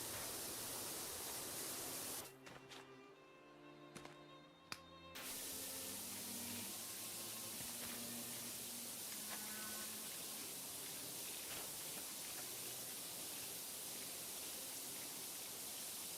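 High-powered pressure washer forcing water through a nozzle head, a loud, close, steady hissing roar of spray that cuts out briefly for a few seconds before resuming continuously.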